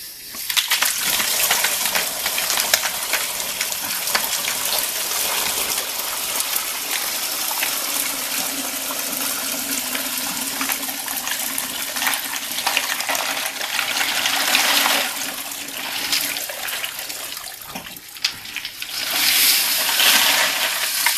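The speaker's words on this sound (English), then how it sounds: "Okay, that should be cool enough that I can safely pour it." Hot liquid is poured out of a tumbling container full of porcelain media in a long, steady gush of splashing water that continues loudly for about twenty seconds, easing only briefly near the end.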